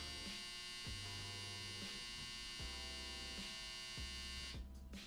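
A clothes dryer running: a steady electrical hum with a low rhythmic thumping repeating about once a second, continuous and fairly quiet, no voices.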